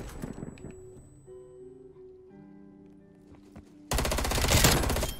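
An FFAR 1 rifle in Call of Duty Black Ops Cold War fires a sudden, loud, rapid automatic burst near the end, after a stretch of quieter game sounds and a few soft tones.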